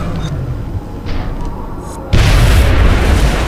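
A deep, heavy explosion booms in the video game XCOM, a loud sustained blast that jumps abruptly over rumbling game noise and stays dense to the end.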